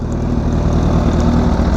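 A Kawasaki Ninja H2 fitted with a new Vandemon full exhaust idles steadily up close, a loud, deep, even burble holding for the whole stretch with no revving and no voices.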